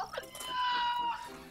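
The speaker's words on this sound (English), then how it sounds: "This chicken call is officially one of my all-time favorite sound effects" A cartoonish chicken call from Super Mario World 2: Yoshi's Island, a short warbling clucking cry about a second and a half long, with background game music and a voice partly overlapping it.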